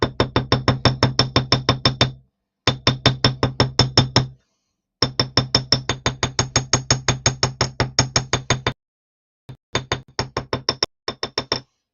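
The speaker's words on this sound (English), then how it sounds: "So I'm just hammering." A hammer taps wire for a craft project in rapid, evenly spaced metallic strikes. They come in several close bursts with short pauses between them, with no talking.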